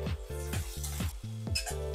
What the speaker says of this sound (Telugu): దానిలో ఆయిల్ వేసి బాగా మరిగిన తర్వాత ముందుగా కట్ చేసి పెట్టుకున్న ఆనియన్ ముక్కలు వేయాలి